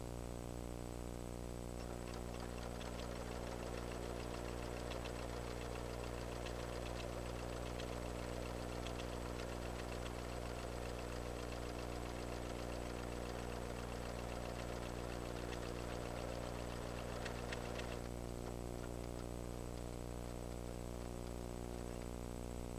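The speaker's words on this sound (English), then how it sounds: "The machine will sew the buttonhole," Pfaff Creative 7570 sewing machine stitching a buttonhole on its own, a faint, steady mechanical whir and needle patter running for roughly sixteen seconds over a constant low hum, then stopping.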